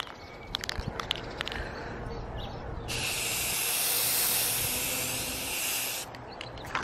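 A spray can lays a second coat of paint on windshield wipers during a restoration on a Miata, making a continuous loud hiss for about three seconds, with light handling taps and clicks before and after.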